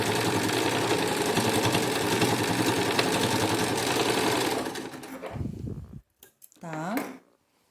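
A sewing machine stitches piping on a cushion in a fast, even chatter close up, running for several seconds before it stops, followed by brief handling noises and a short spoken word.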